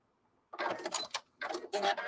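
A sewing machine runs in two short bursts of stitching at a reduced stitch length, packing the stitches tightly together. It sounds close and fairly quiet, with a brief pause between runs.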